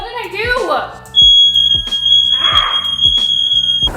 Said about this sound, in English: I swear our fire alarms or fire detectors in the apartment are just like heat sensitive